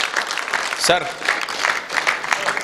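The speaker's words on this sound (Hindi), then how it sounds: "जबरदस्त तालियां सर के लिए" Seminar audience at a goal-setting talk claps steadily for about three seconds, a dense patter of many hands, with a man's brief spoken word breaking through near the start.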